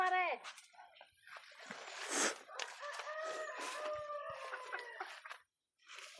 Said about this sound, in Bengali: এখানে মুরগি আছে